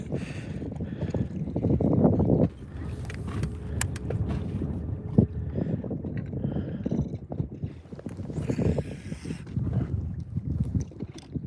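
Wind buffets the microphone on a bass fishing boat on Lake Lanier, a rough, gusting rumble that swells and drops throughout, with water and boat noise mixed in.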